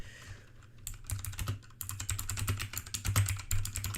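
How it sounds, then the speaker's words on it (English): Rapid, loud clicking of a computer keyboard being typed on, with steady bursts of keystrokes and a brief pause, no voices. "Sorry if you can hear my keyboard clicking."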